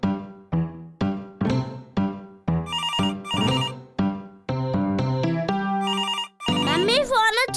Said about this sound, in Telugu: మమ్మీ ఫోన్ వచ్చింది.